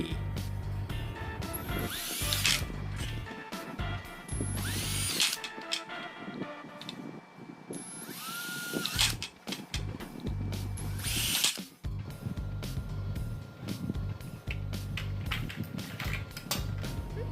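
A power drill with a 4.5 mm bit whirs in several bursts, each a few seconds long, with short pauses between them. It sounds close, loud and steady, with no talking.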